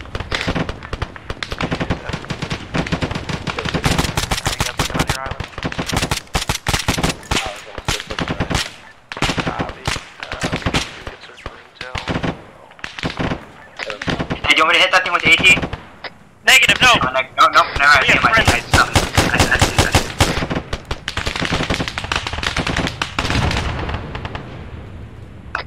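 Intense gunfire in the military shooter ArmA 3, with dense bursts of automatic and single shots cracking loud and close, broken by brief gaps, alongside occasional booming blasts over several seconds.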